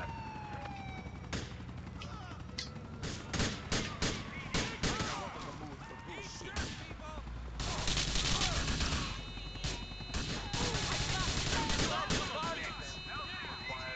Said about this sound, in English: At least I got the machine gun.